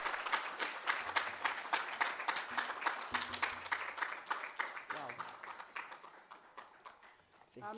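An audience applauds at the FLAIR Forum and Expo at the University of Nairobi, a fairly faint burst of many hands clapping that thins out toward the end.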